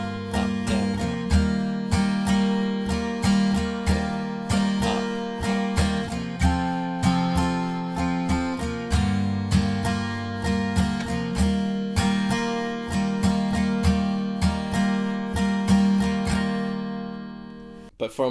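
Acoustic guitar strumming a simplified pre-chorus chord progression from a song, steady down-up strokes in an even rhythm, close and clear, with no voices.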